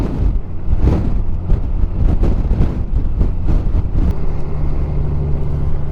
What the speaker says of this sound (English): That's a good gust of wind coming through.